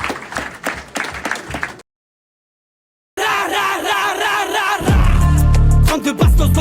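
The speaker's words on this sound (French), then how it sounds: "Applaudissez" An audience breaks into clapping and cheering in short loud bursts, cut by a brief silence before louder sound resumes.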